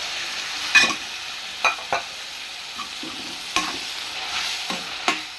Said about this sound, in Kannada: ಇನ್ನು ನಾವು ಈ ಹುರುಳಿಕಾಳನ್ನ ಕುದಿಸಿಟ್ಟಿದ್ನಲ್ಲ ಅದನ್ನ ಇದಕ್ಕೆ ಹುರ್ಕೊಂಡ್ಬಿಡ್ಬೇಕು.